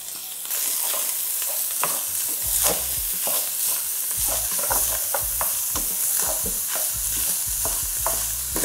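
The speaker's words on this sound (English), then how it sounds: "Now I want to add the sweet peppers." Sweet peppers go into a hot pan with garlic for sloppy joes, giving a steady close sizzle broken by repeated scraping stirs, with no talking.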